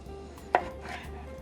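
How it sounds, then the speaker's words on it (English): A knife slices through cantaloupe melon on a board with a single crisp cut, close and quiet, with faint kitchen background around it. "I'm gonna just slice up some of this melon to put on the plate"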